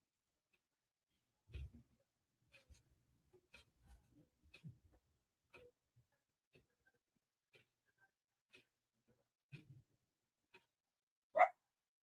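A dog gives scattered, faint barks and muffled yips at irregular intervals in a quiet room, ending with one louder bark, alongside soft tapping sounds.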